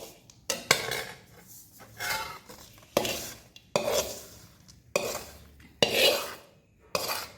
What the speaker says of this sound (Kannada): ಈ ರೀತಿಯಾಗಿ ಚೆನ್ನಾಗಿ ಕೈಯಲ್ಲೇ ಮಿಕ್ಸ್ ಮಾಡಬೇಕು.